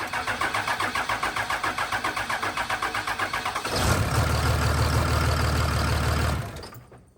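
A Cummins diesel truck engine cranks with a fast rhythmic chug for several seconds, catches and runs at a loud rough idle, then cuts off abruptly, close up with no talking.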